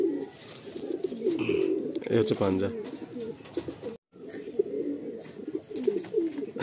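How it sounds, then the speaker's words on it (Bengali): A young Madrasi tournament pigeon held in the hand gives repeated low, throaty coos close up, while someone talks over and between them. "এটা বেবি পায়রা দেখুন"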